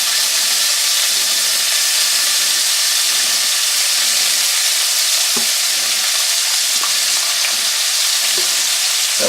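Pork pieces for sweet and sour pork fry in hot oil, giving a loud, continuous sizzling hiss close by, with occasional faint clicks and stirring sounds.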